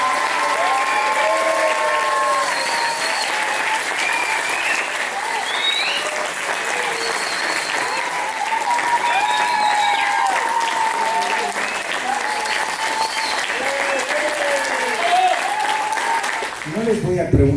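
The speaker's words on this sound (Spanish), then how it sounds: "Un fuerte aplauso a todos." Wedding guests at a Spanish-speaking reception break into loud, sustained applause that fills the whole stretch, with cheers and voices mixed into the clapping.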